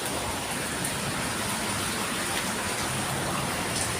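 Heavy rain pours down over Jadavpur's Ram Thakur Colony in Kolkata, a steady dense hiss of falling water with no break, moderately loud and alone.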